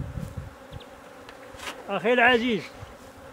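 Honey bees buzz around an open hive during beekeeping work, a near, rising and falling drone with a brief louder swell, while someone speaks briefly.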